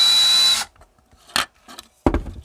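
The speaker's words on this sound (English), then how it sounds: "my suggestion is to drill slowly and carefully" A power drill bores slowly through material to fit a wifi antenna extension for a Wyze Cam V2. It runs in a loud, steady whine, stops abruptly, then gives a couple of short knocks and scrapes.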